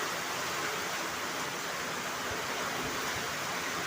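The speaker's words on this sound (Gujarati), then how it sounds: "એમ જુઓ તમે, ઘડીકમાં તો ધોધ માર પડવા માંડ્યો." Heavy rain pours down in a steady, dense hiss with no break, heard from under a shelter outdoors.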